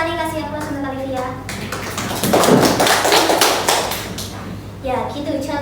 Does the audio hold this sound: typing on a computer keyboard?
no